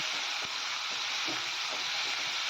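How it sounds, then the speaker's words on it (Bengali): Grated onion, ginger and garlic frying in refined oil, a steady close broadband sizzle with occasional soft stir knocks, no voices. "পেঁয়াজ আদা রসুনটাকে ভালো করে ভেজে নিচ্ছি"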